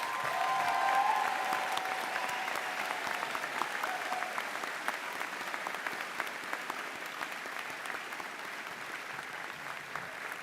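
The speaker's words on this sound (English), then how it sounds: "I'd like a rounding applause for our two name readers, Sarah Herzenach and Meredy Gelati." An audience at a graduation ceremony applauds the two name readers with broad, steady clapping that swells briefly at the start and then continues at an even level throughout.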